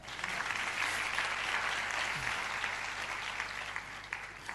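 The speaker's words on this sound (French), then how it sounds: "Ok, acclamons le Seigneur." A church congregation applauding, a dense sustained wash of clapping that holds steady for several seconds before thinning slightly toward the end, with no speech over it.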